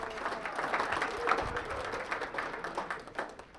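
An audience at a chamber of commerce legislative preview claps in sustained, dense applause that holds steady throughout, with no voices on top.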